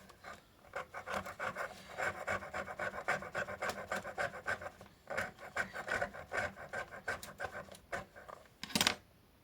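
Rhythmic dry scratching and rubbing strokes while crafting a small flower, close and fairly even, ending in a brief sharper burst.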